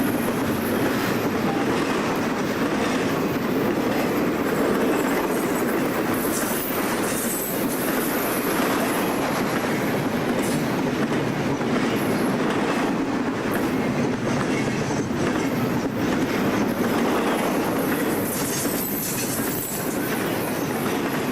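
Conrail freight train TV 554 hauling containers rolls past, a loud continuous rumble with rhythmic wheel clatter and occasional squeal, sustained and close throughout with no voices.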